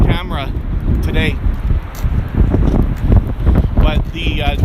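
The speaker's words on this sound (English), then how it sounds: "it's quite windy today" Gusty wind at Niagara Falls buffets the microphone with a low, loud, continuous rumble, while a voice talks over it throughout.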